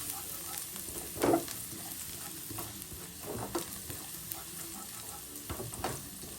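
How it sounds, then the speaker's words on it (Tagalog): Garlic toasting in a pan for Filipino garlic fried rice, a steady sizzle broken by several loud scraping stirs, the biggest near the start, close and continuous with no talking. "Nag-toast lang natin yung ating garlic."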